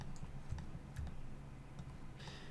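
Computer keyboard keys clicking in quick, irregular taps while shortcuts are entered in 3ds Max modeling software, close and fairly quiet, with no talking.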